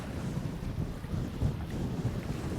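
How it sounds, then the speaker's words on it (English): Wind blows hard across the microphone on a rough-weather Northumberland shore, a steady low rumbling buffet with gusty thumps. "That wind's trying to get in it."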